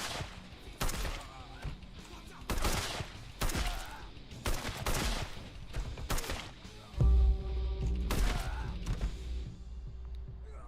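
AK rifle fire in the Acts of Blood game comes in several sharp, loud bursts spaced a second or so apart, close and punchy, with a heavier impact near the end.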